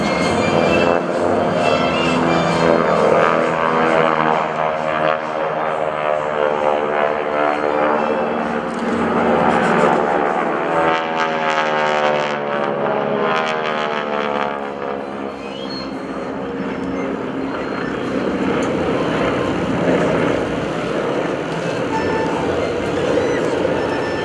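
GEICO Skytypers propeller airplanes make a low pass at an airshow, a loud rising and falling engine drone that swells and fades over about 24 seconds with a shifting buzz.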